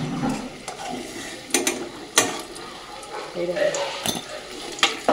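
Oil sizzling in a pan as potatoes fry, with sharp clinks and scrapes of a utensil against metal, several distinct knocks punctuating the frying.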